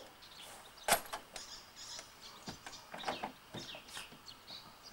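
A door is fitted onto a camping trailer: a sharp knock near the start, then light clicks and rattles of the panel settling into place, close by with no talking.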